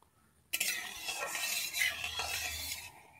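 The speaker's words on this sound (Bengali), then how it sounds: "এখানে আমি তেল দিয়ে দিচ্ছি, সর্ষের তেল দিয়ে দিচ্ছি।" Mustard oil pours into a cooking pan with a sudden onset, then a steady hissing, sizzling wash that runs close and fairly quiet for a few seconds before fading.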